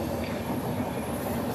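A train rolls past a level crossing on a hot day while an e-rickshaw waits, a steady close rumble of rail cars filling the whole moment without voices.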